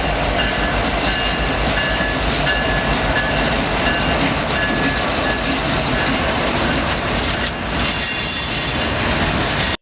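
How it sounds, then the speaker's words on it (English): An eastbound intermodal train led by an SW1200 switcher originally built as Texas Pacific 1275, now owned by CHSX, rolling past close and loud with continuous rumble, clattering wheels and metallic squeal, and no talking. "I catch an SW unit on an eastbound intermodal, which was originally built as Texas Pacific 1275 as an SW 1200"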